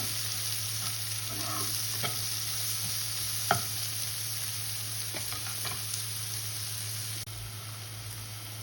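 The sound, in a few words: onions frying in pan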